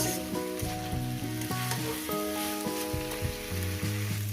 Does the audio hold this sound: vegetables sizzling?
yes